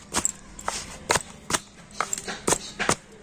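A hot fried paratha being beaten by hand to flake its layers, a series of sharp close slaps and thuds at an uneven rhythm with quiet gaps between them.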